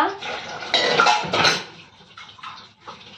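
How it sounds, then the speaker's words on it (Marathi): Dishes, pots and pans being scrubbed and rinsed in a home kitchen, with clattering metal and running-water splashes close by, loudest in the first half, then quieter scattered clinks. "आता आपली भांडी पटापट घासून घेऊया"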